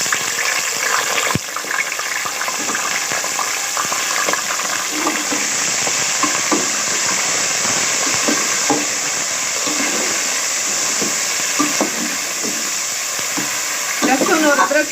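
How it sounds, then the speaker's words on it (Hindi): Chicken dropped into hot oil with ginger and garlic paste, frying in a steady loud sizzle with scattered crackles and a few stirring scrapes, a sharp burst near the start and a livelier hiss at the end, close and alone. "गर्म था इसलिए अब मैं इसमें चिकन डाल रही हूँ"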